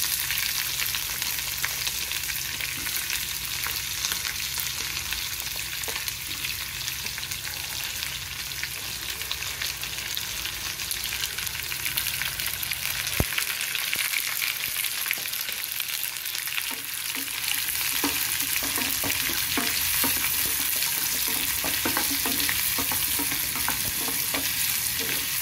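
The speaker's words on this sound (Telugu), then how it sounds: "ఇలా తిరగమాత కాగిన తర్వాత దానిలో ఉల్లిపాయ ముక్కలు కూడా వేసేసుకోవాలండి." Onion pieces fry in hot tempering oil for a ridged gourd curry, a constant loud crackling sizzle throughout, with occasional stirring scrapes and no talk.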